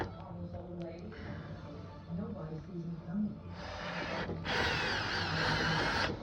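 A power drill whirs in two bursts while drilling holes to mount a light on a quad, the second louder and higher-pitched, over a low background hum with faint voices early on.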